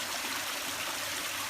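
Water pouring steadily from a pond filter outlet into a fish pond, a continuous broadband rush and splash that holds even and fairly close throughout, with no voices.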